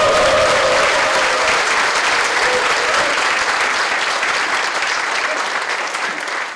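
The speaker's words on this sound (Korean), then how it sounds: "당 대표 소개 때 보내준 박수보다 좀 더 큽니다" A large crowd at a Korean political party launch ceremony gives loud, dense, sustained applause that fills the hall and eases slightly toward the end.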